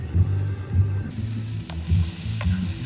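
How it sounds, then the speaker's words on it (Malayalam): Onions sautéing in a pan, a steady sizzle and frying crackle with soft stirring movements running throughout, close and alone with no talk. "എന്നിട്ട് നേരെ ഉള്ളി ഇടണം, ഉള്ളി വാട്ടിയിട്ട് ഗ്രേവി ടൈപ്പാക്കി കഴിക്കാനുള്ള പരിപാടിയാണ്."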